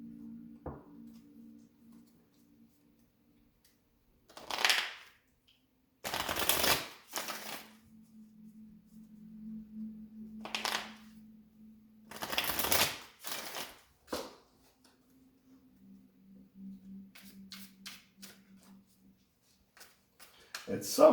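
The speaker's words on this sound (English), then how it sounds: "I need to keep on going until I get a good shuffle and a clean cut" Tarot cards shuffled and cut by hand in several separate bursts of quick riffling and slapping, with brief pauses between them and a low steady hum underneath.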